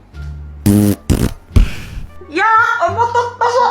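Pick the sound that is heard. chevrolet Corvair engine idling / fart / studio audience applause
fart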